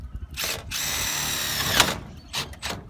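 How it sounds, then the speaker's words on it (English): Power drill driving a screw into roof fascia during a water tank installation: several short whirring bursts, including one longer sustained run, close and loud with brief pauses between. "We're just going to put one screw there."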